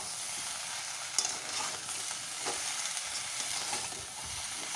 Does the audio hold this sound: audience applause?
no